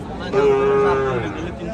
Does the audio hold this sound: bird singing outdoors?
no